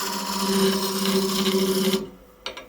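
A blade used as a negative-rake scraper smoothing the corners of a carved maple wood kuksa: close, continuous dry rasping for about two seconds, ending with a faint knock.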